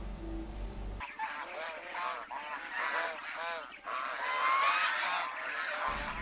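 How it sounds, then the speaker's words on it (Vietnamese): A flock of hundreds of plump geese on a goose farm honks in overlapping, repeated calls, loud and close, with a general clamour of many birds throughout. "Hàng trăm con ngỗng mập mạp này là thành quả của những năm tháng lao động miệt mài của anh Lê Bình Minh"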